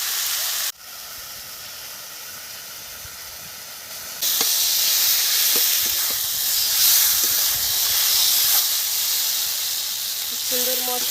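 Spices frying in a pan for a fish curry give a continuous close hiss and sizzle that grows louder partway through and then holds steady, with a few faint clicks and no talk.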